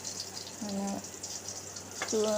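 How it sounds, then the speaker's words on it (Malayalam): Small shallots fry in coconut oil in a pan, giving two short bursts of sizzling hiss with quiet gaps between them. "എണ്ണയിലേക്ക് ഞാൻ കൊച്ചുള്ളി ഇട്ട് കൊടുത്തിട്ടുണ്ട്"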